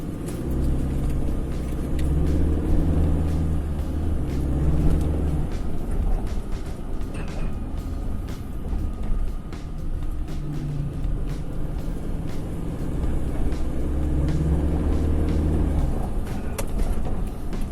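A reflashed, chip-tuned 2017 Isuzu MU-X hums steadily from inside the cabin on a test drive, its engine drone rising and falling in pitch with throttle over a constant road rumble, without talk.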